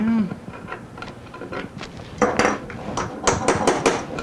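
Sharp metallic taps of a hammer striking a transfer punch to mark holes on a mini CNC machine part in a workshop, a dozen or so irregular close strikes, growing louder and quicker toward the end.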